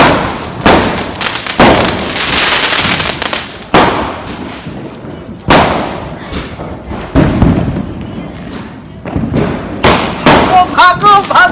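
Diwali firecrackers set off during a celebration go off in a string of loud booming thumps and cracks, several close bursts separated by short gaps, with voices shouting nearby.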